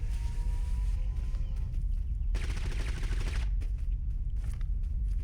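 Rapid gunfire in Totally Accurate Battlegrounds, a dense rattling burst in the middle of the stretch over steady game ambience, with no talking.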